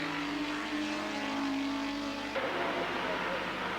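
Touring cars race through a chicane at the Österreichring in 1986, their engines a continuous loud drone with shifting pitch as commentary runs over it.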